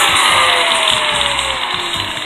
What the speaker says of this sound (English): You could take your sander and just kind of smooth it out more.